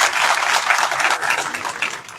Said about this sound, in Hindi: हमारे भैया के लिए एक बार जोरदार ताली बजाएं।